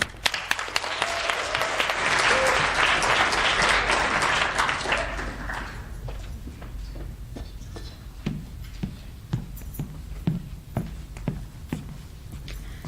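An audience at a high school poetry recitation competition gives warm applause for a competitor, a dense burst of clapping that fades after about five seconds, followed by sparse, scattered knocks and footsteps in a quieter room.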